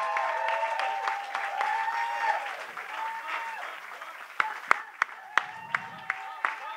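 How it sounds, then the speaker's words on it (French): An audience applauds a volunteer at the closing ceremony of the Circuit bleu Charles-Bruneau, a steady wash of clapping that thins out into scattered individual claps, with a voice speaking over it. "Je pense qu'il mérite une bonne main d'applaudissements."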